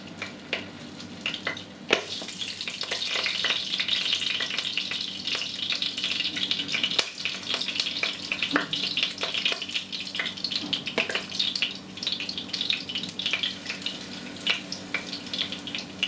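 Chicken fillet pieces sizzle and crackle in hot oil in a frying pan in a steady, close frying hiss, with occasional clinks and stirring, and no talking.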